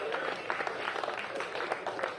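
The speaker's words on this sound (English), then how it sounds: "Keep that round of applause going" Crowd applause at a greyhound racing event, a steady patter of many hands clapping at moderate distance, continuous and unbroken throughout.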